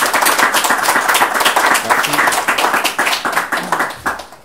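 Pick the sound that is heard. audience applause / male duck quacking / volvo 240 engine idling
audience applause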